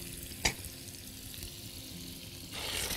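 Liver sautéing in butter in a pan, a quiet steady sizzle with one sharp clank of a utensil early on and a louder burst of frying near the end.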